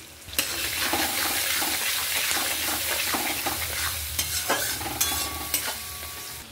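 Chopped onions frying in oil with salt and turmeric, under a continuous close sizzle broken by repeated scraping and clinking stirs of a spoon against the pan, with no talking.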